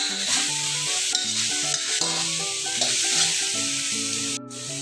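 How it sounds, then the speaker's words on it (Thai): Beef is stir-fried with dried chilies and holy basil in a hot pan, a steady loud sizzle with repeated scraping and stirring strokes of a spatula throughout, no voices. "ผัดขั่วมาจนมาถึง มันหอมหยอบหยอบแล้วครับผม"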